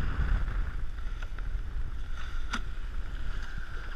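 A pedal-driven racing sailboat in the R2AK race moves through light conditions, with a steady rushing of water along the hull and wind buffeting the microphone, continuous and close, with no talking.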